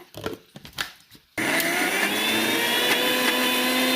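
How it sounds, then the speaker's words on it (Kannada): A kitchen mixer grinder blends wild mango curry masala, starting with a few short knocks and rustles before the motor kicks in abruptly and whirs loudly and steadily to the end. "ಪುನಃ ಒಂದು ಸಲ ಮಿಕ್ಸಿಗೆ ಹಾಕುವ"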